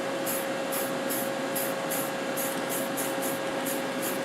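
Spray paint hissing steadily while a light color coat goes onto a Tamiya 1/14 R/C King Hauler model truck, a constant close airbrush-like spray with a soft rhythmic pulsing, no voices.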